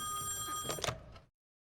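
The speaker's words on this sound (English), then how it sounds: "alright, let's pick up this phone." A telephone rings in the horror video game Song of Horror, a shrill electronic trill that is loud and close, then cuts off abruptly into silence.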